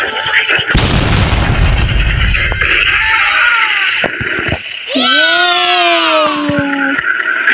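Loud booming blasts and gunfire-like bursts from a Roblox prison-escape game, followed by a rising whine with dense synthetic effects throughout.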